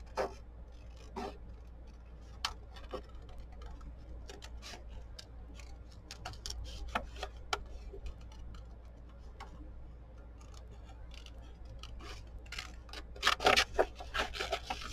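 Scissors snip around a printed figure cut from a greeting card, quiet scattered clicks and short cutting strokes at close range, spaced irregularly over a faint steady hum, with a denser burst of snips near the end.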